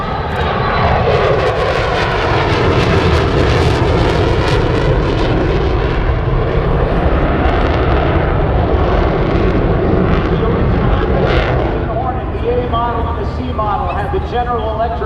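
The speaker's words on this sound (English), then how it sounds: "this, from the right, is the Hornet's new sting, the F-18 Super Hornet" An F-18 Super Hornet jet passes at Oshkosh AirVenture, a loud, sustained roar that holds steady throughout before shifting slightly as it moves away, with crowd and announcer voices blended underneath.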